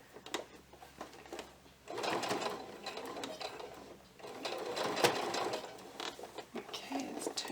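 Sewing machine backstitching fabric pixie wings onto a top, a steady mechanical needle whir in bursts with brief pauses, running close and fairly loud with light handling noise.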